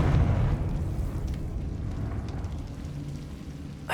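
A Confringo fire spell explodes in Hogwarts Legacy with a low, rumbling blast that fades into a crackling, debris-like tail over a few seconds.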